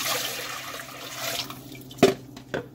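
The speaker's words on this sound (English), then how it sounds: "first you put the liter of water in a pot." About a liter of water splashes and trickles into a pot, a steady liquid pour followed by a couple of sharper knocks near the end.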